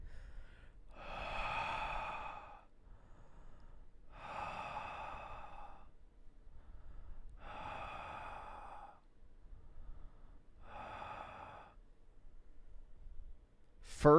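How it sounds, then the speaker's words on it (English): Heavy, loud breaths pushed right into a microphone, four long exhalations evenly spaced with quiet gaps between them, close and airy, with no talking. "Hearing you breathing on the mic is disgusting."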